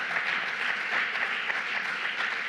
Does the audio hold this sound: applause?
yes